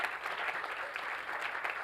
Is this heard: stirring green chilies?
no